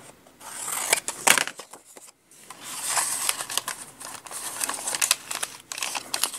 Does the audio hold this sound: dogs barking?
no